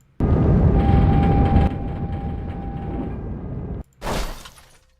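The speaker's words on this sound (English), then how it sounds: "That's like a Jeep crashing sound from Halo." A loud vehicle crash effect from Halo, a Jeep wreck with a sustained crunching, shattering roar that cuts off abruptly, followed by a second shorter burst of debris that fades out.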